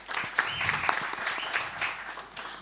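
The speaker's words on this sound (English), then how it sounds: "If we could just give him a round of applause." An audience at a business talk session applauds in a dense, even burst of many hands clapping at moderate volume for a couple of seconds.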